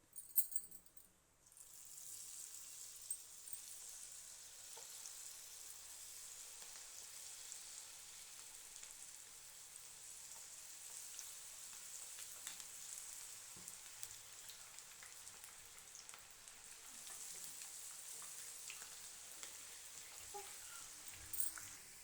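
Pakoda fritters deep-frying in hot oil give a steady, soft, rain-like sizzle that holds evenly throughout at low volume, close by, with no talking.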